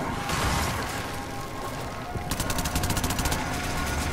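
Pistol gunfire in the video game Warframe, starting as a dense, noisy roar and then turning into a quick burst of about a dozen sharp, evenly spaced shots.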